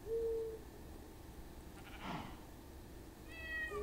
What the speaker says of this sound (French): J'ai un chat qui saute après un oiseau là près de moi.